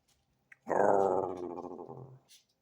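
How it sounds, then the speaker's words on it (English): A dog gives a low, rumbling growl lasting over a second, close by, in an otherwise quiet room. "Growl goes through the house."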